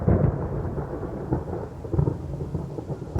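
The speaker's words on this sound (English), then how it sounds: "Paimon hears thunder!" Rumbling thunder from a storm in the video game Genshin Impact, a deep continuous roll with swelling peaks, heard alone with rain-like hiss and no voices.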